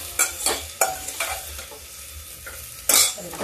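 Mixed vegetables with peas fry in a pan over a steady low sizzle, stirred with a few sharp scraping strokes, the loudest near the end. No one speaks.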